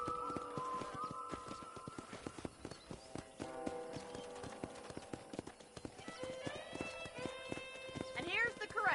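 Horses at a ranch corral in the video game Red Dead Redemption clop steadily on the ground and whinny near the end, under ongoing conversation between characters.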